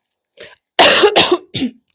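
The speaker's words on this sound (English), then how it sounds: "I just totally coughed into the mic" A few loud, harsh coughs right up close into a microphone, one after another in a short burst, with a softer breath before and after.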